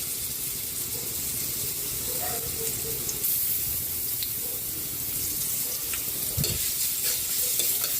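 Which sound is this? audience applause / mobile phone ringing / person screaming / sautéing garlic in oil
sautéing garlic in oil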